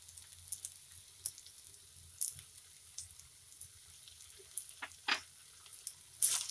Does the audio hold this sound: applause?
no